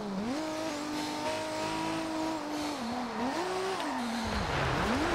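Nissan Skyline in the Forza Horizon 2 racing game, its engine droning and shifting pitch as it revs up and down through gears, with tire noise underneath, loud and steady throughout.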